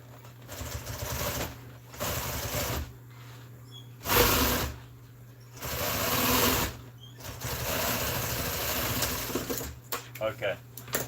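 Sewing machine stitching RV seat upholstery around a curve, running in several bursts of steady mechanical whirring separated by short pauses, with a person talking in between.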